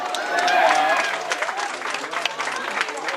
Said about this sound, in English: stand up for a round of applause